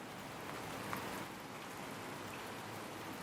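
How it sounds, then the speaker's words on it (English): Steady rain falls evenly on surfaces, a soft continuous wash of drops with no voices or other sounds standing out. "Most of them are recordings of rain in different places"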